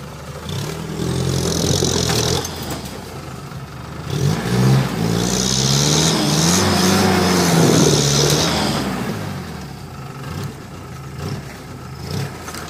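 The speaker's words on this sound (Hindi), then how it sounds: "इसमें और हायर आरपीएम वाला इंजन चाहिए था जिसमें टॉर्क ज्यादा हो" A car engine strains on a steep, tough climb, rising and falling in two long, loud rev swells over a constant rumbling drone, with no voices.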